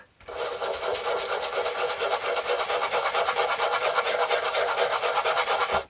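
Brisk, rhythmic scrubbing close up on the textured case of a Hitachi WH-1050 radio, a rapid run of even rasping strokes that starts abruptly and stops after several seconds, with no talking.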